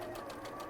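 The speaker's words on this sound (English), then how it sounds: "using the 570A sewing machine from Elna" An Elna 570A sewing machine stitches fabric with a rapid, even mechanical whir and needle rhythm, faint and brief, with no talking over it.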